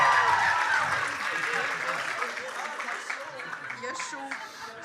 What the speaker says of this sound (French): On applaudit Mathieu.